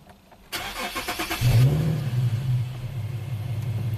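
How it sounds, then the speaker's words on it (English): An Infiniti with a repaired CAN network fault cranks briefly and catches, then settles into a steady, close idle rumble that runs on alone to the end. "the car should start now."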